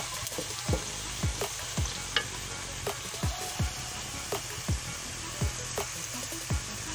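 Onions soften in a pan for chicken tikka karahi, a steady low sizzle broken by regular spatula strokes scraping through them about every half second, close and fairly quiet with no talking.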